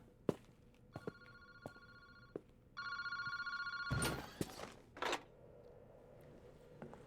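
Telephone ringing in a park phone booth in the video game Paranormasight: short electronic rings repeat in bursts between scattered clicks and footsteps, with one louder thump partway through.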